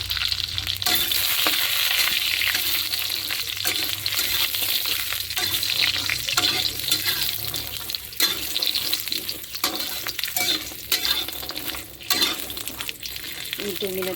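Adouri frying in a hot kadhai, a continuous close sizzle broken by repeated scraping stirs and light clinks.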